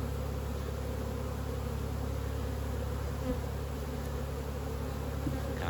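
Dense steady buzzing of many honeybees around a frame of sealed brood lifted from a congested hive during spring nucleus making, continuous and close with no voices.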